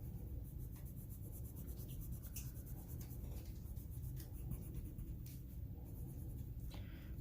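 Moss green colored pencil with a sharp tip outlining lines across a drawn Jeep on paper, a steady close scratchy scraping of strokes repeating throughout over a low background rumble.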